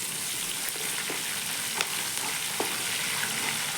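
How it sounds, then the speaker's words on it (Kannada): Ginger, curry leaves and dried red chillies fry in hot oil for savoury pongal, a steady close sizzle with a few soft stirring clicks and no talk. "ಒಣಮೆಣ್ಸಿನ್ಕಾಯಿ ಹಾಕೋತಾ ಇದ್ದೀನಿ. ಜೊತೆಗೆ ಹಾಕೋತಾ ಇದ್ದೀನಿ ಎಲ್ಲ. ನಾನು ಸ್ವಲ್ಪ ಫ್ರೈ ಮಾಡ್ಕೋಬೇಕು."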